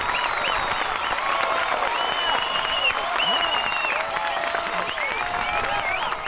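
A film crowd applauds Dhwaja with sustained, dense clapping that carries steadily throughout, overlaid with scattered whistles and cheering voices.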